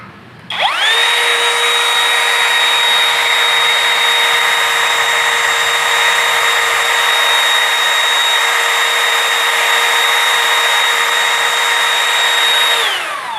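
Worksite CR326 brushless 20V cordless string trimmer running at top speed, a loud, steady high-pitched whine that spins up quickly, holds constant for about twelve seconds, then winds down. No voices.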